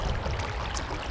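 A shallow stream runs near a waterfall, giving a close, steady wash of rushing and trickling water with no voices.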